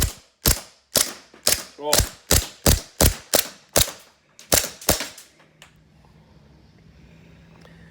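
An airsoft gun firing with olive oil in it, about a dozen sharp, loud snapping shots in a fast steady rhythm with mechanical clatter, followed by a low hum and quiet hiss after the firing stops.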